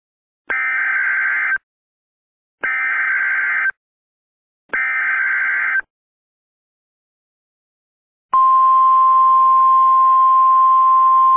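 Three loud, evenly spaced bursts of two-tone emergency alert data tones, then a long steady single-pitch attention tone, from an Emergency Alert System warning for a Helena Banks Fault Zone earthquake and Atlantic tsunami scenario relayed on NOAA Weather Radio.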